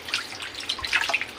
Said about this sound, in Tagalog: Magasot tayo sa tubig.